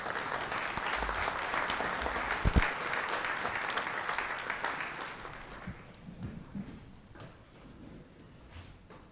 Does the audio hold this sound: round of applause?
yes